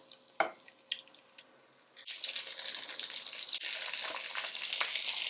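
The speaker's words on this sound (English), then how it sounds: "Enough fat rendered out of the first meatballs while they were cooking that I did not have to add more butter to the pan." Dutch meatballs (gehaktballen) start frying in rendered fat in a pan; after a few soft knocks and clinks, a steady bright sizzle kicks in and holds loud and continuous to the end.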